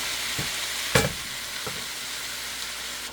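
Mung beans sautéing in a pan give a steady hiss of frying, with a few sharp clinks of a utensil stirring against the pan.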